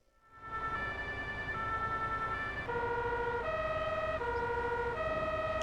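German fire brigade siren from an emergency vehicle mod in Farming Simulator 22, a two-tone wail alternating pitch steadily and loudly throughout, with a low engine rumble beneath and no talking.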